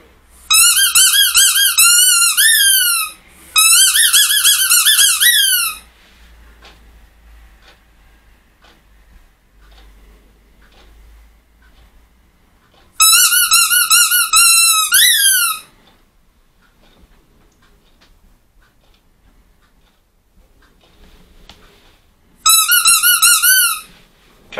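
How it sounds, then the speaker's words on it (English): Loud, high, rubbery squeaks come in three separate bursts of rapid repeated chirps, with long near-silent gaps between them and no talking. "that squeaking we heard"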